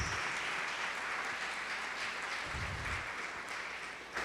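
Steady applause fills a church service after a call to praise, a dense even patter of many hands clapping at moderate distance, with a low rumble of voices briefly swelling near the middle.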